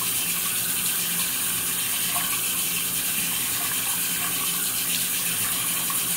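Tap water running steadily into a sink during face washing, a close, continuous hissing gush that stays even throughout, with no talking.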